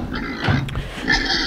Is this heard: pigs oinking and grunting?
yes